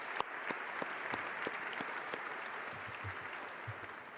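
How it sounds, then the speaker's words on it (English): Steady applause from an audience at a mentoring celebration, a dense continuous patter of many hands clapping throughout, moderately loud and without speech. "I'm shameless, so I'll clap for myself."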